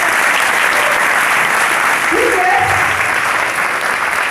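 Loud, sustained applause from a seminar audience fills the room throughout, a dense steady wash of clapping with a voice speaking briefly over it partway through.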